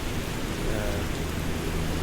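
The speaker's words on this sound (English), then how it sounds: "The rain's bouncing off the tarmac like it should do." Rain falls on the airport tarmac at Barcelona in Microsoft Flight Simulator, a dense, even hiss of drops hitting the surface that holds steady throughout.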